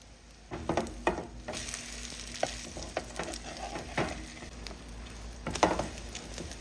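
French toast fries in a pan with a soft continuous sizzle, punctuated by a few scraping and tapping sounds from utensils, close and moderately quiet, no speech.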